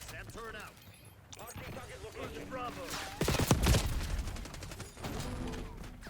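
Gunfire from the video game Black Ops 6 bursts in a short rapid volley, loud and close, with a voice talking over the game audio before and after.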